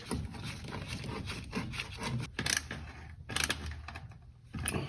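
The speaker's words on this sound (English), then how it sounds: "we just have to tighten down the clamps on those" Tightening hose clamps on the air intake pipes of a 1.8T MK6 VW Jetta, heard as close ratcheting and scraping with tool clicks, fairly quiet and continuous, with short sharper bursts.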